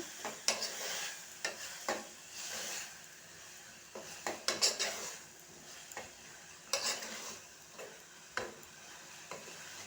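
A spoon stirs a potato and tomato curry in a pan, with repeated scraping strokes in a loose rhythm over a faint sizzle, close and moderately quiet, with no talking.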